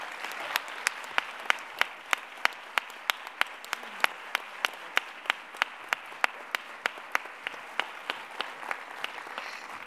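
Audience at a Más Madrid political rally in Alcorcón applauds for Manuela Berguerot, with a steady, evenly spaced rhythm of sharp claps running through the whole stretch at moderate, somewhat distant volume.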